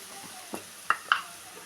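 Green chili paste hitting a hot pan of frying vada batter filling, a low sizzle broken by a few sharp spoon clinks and scrapes, close and quiet, with no talking.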